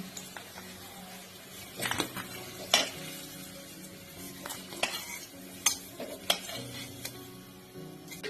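Fried potatoes being lifted out of hot oil in a frying pan while cooking a Bengali rui fish curry: a steady sizzle with intermittent metallic scrapes and clinks of a spatula against the pan, close up and with no voices.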